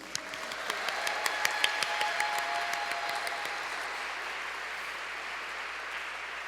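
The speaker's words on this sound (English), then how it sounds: "And a round of applause for Miss Tania D'Souza." Applause from an audience at a charity concert benefit evening, dense clapping with a few distinct sharp claps early on that settles into an even, continuous wash and gradually softens.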